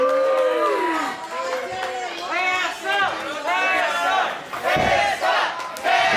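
A wrestling crowd in Sevierville, Tennessee cheers and chants for Tessa Blanchard, a loud, dense mass of voices rising in repeated waves of shouting, heard from within the arena with no break.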